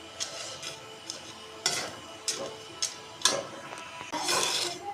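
Black chickpeas dry-roasting in a pan, with scattered sharp pops and clatters as they are stirred, a few distinct close knocks and a rattling burst near the end, no talk.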